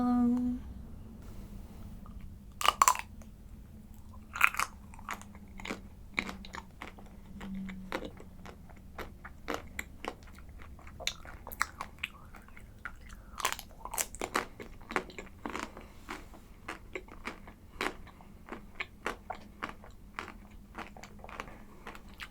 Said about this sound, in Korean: 오늘은 아이스크림을 먹을 건데 티코랑 엑설런트예요